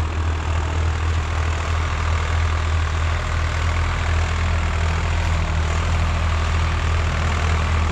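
A 2023 Swaraj 855 FE tractor with a hitched harrow runs steadily in a ploughed field, a continuous loud low diesel rumble with broadband noise and no pauses.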